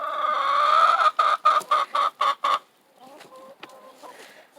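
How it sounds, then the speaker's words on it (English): Chickens from a backyard flock of seven cluck in a quick series of loud, close bursts, then fade into softer, scattered clucks and faint background noise. "They are our chickens as well."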